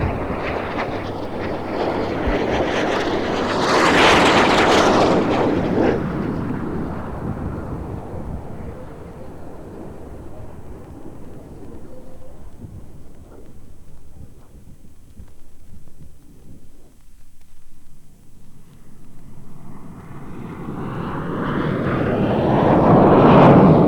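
A Folland Gnat jet roars past, its broad engine noise swelling loud around the fly-by, easing to a steady rumble and then building again as it approaches once more.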